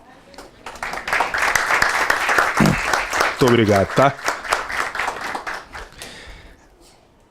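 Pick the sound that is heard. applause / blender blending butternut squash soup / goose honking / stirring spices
applause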